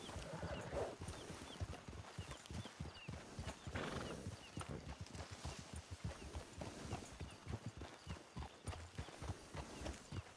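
Horse hooves clip-clopping at a walk, with a whinny early on, in the Western video game Red Dead Redemption II, close and steady under light background ambience.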